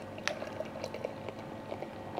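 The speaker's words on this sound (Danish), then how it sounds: "Når man hælder den op i glasset" Dark porter beer pours into a glass with a steady liquid gurgle and fizzing, close and moderately quiet, with small bubbly pops throughout.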